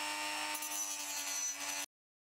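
Plastic speaker cover from an H0-scale Bachmann Siemens Charger diesel locomotive model being worked with a tool, a steady close abrasive grinding that runs continuously for nearly two seconds, then stops abruptly into silence.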